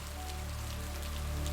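Heavy rain pours steadily through a forest near a cabin, a dense continuous patter of drops with a low rumbling undertone, loud and unbroken throughout.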